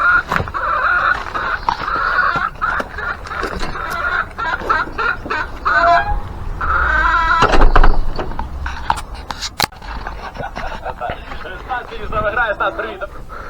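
Farmyard chickens clucking steadily around a rabbit hutch area, fairly close and continuous, with a brief louder scuffle midway and someone talking over them.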